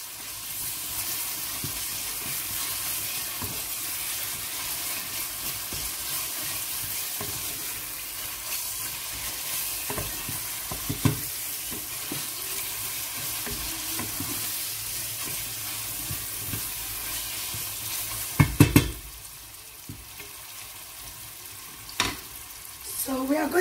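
Tinned tomatoes are stirred in a pot for jollof rice, giving a steady low sizzle and simmer with soft scraping throughout and a few sharper knocks of the spoon against the pot near the end.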